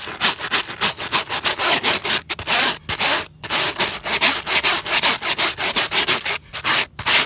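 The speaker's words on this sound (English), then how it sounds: "So I scrub that a little bit harder." Scrubbing wax and propolis off plastic beehive foundation makes a steady, close rasping rub. The back-and-forth strokes come in quick repeated bursts with a few brief pauses and no talk.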